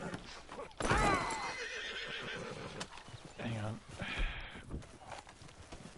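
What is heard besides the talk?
horse neighing and hooves in video game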